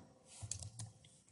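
Someone types on a computer keyboard, and a few soft, close clicks cluster in the middle against a quiet room background.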